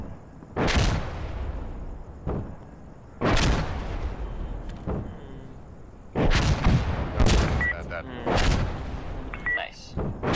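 Heavy mortar blasts in a video game, several loud booming impacts spaced irregularly, some landing in quick pairs, each with a rumbling tail and brief crackle between them.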